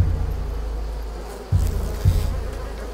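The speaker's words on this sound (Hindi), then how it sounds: "मक्खियों की बिन बनाहट की आवाज मुझे आ रही है।" Flies buzz in the video game A Plague Tale Requiem, a continuous droning hum close by, with two brief low thumps partway through and no talking over it.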